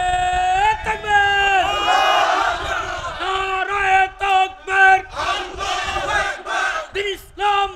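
Large rally crowd roars a takbir chant in unison, a dense wall of many voices rising and falling in loud, rhythmic bursts for several seconds, with a leader's voice cutting in between surges.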